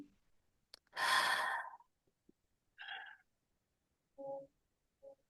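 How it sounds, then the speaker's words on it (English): A deep breath during guided meditation: one long, audible exhale close to the microphone, followed by a few softer, shorter breaths amid near silence. "Take a breath with me."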